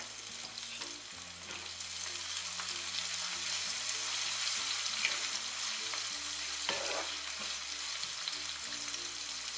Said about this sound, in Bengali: এখন দিয়ে দিচ্ছি হাফ কাপ মোটা করে কাটা পেঁয়াজ কুচি পেঁয়াজটা বেশি ভাজার প্রয়োজন নেই